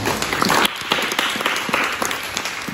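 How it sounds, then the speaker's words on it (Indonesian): A class at an Islamic college in Riau claps together in a teaching session. The sound is a busy, close patter of many hands that continues steadily for a few seconds. "tepuk tangan untuk kita"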